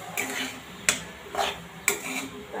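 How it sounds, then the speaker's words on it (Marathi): Chopped pieces are stirred around in a pan with a utensil, three distinct scraping strokes at roughly one-second intervals over a soft background sizzle, close and clear with no speech. "आणि आता हे ना सगळं तुकडं टाकून देते ह्याच्यात आणि हलवून घेते."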